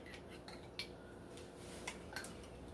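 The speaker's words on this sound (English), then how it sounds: "So, go ahead and stir the apple butter." Spoon stirring homemade apple butter in a pot, a few light clinks and scrapes against the side, faint and sparse over a quiet background.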